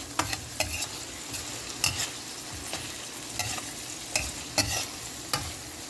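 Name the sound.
stirring mussels with mushrooms and oyster sauce in pan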